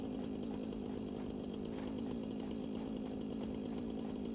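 A chainsaw runs steadily in the video game Satisfactory, a continuous loud buzzing drone with a slight rise in the middle, with no speech over it.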